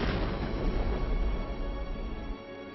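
A bomb blast in an open spot rolls out as a loud, sustained low rumble, booming heavily for over two seconds before cutting off sharply.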